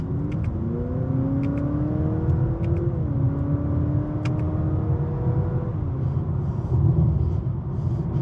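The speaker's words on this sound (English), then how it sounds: "got some good braking from the transmission by using the manual shifters" A 2023 Honda Accord Sport Hybrid slows with regenerative braking selected through the manual shifters, giving a steady cabin rumble with a whining electric tone that steps down in pitch.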